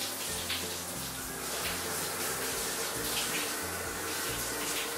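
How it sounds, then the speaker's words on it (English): Running water rinsing soap off toys, a steady close splashing flow like a tap pouring into a basin, continuous throughout with no talk. "now let's rinse the soap off with water."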